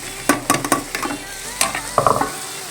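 Dry fish frying in oil with onions and tomatoes, stirred with a utensil that scrapes and clinks against the pan in irregular bursts over a steady sizzle.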